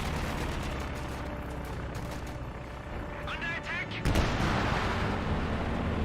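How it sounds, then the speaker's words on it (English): Artillery barrage in Company of Heroes 2, a dense rumbling wash of booms and gunfire that swells with a sharper, louder blast near the end, heard alongside speech. "And maybe they actually wiped out with this barrage."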